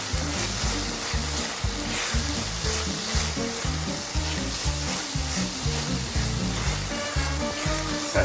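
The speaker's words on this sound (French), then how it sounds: "on ajoute les échalotes. On laisse revenir de nouveau quelques instants." Shallots, peppers and onions sautéing in a pan, sizzling close and steady with repeated stirring scrapes in an even rhythm throughout.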